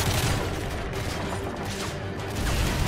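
Gunfire rattles continuously in the shooter game Call of Duty: Modern Warfare 3, a loud, dense barrage of shots mixed with booms and mechanical battle noise, with no breaks.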